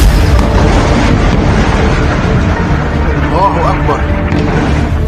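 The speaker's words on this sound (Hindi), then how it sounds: "इजराइल अब लेबनान पर नॉन स्टॉप बमबारी कर रहा है" Heavy bomb explosions from the Israeli bombardment of Lebanon rumble as loud, deep booms layered into a dense, continuous roar, with voices sounding beneath the blasts.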